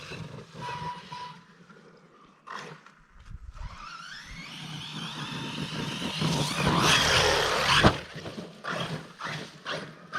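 A Team Corally Sketer RC car on heavy Imex Swamp Dawg tires drives into a pond, its whining motor building as water splashes and churns loudly around it, with no voices.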